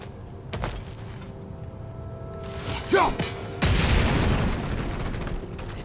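A bomb going off in God of War Ragnarök, with a few thuds and mechanical clatter leading up to a heavy boom that opens into a sustained rumbling roar.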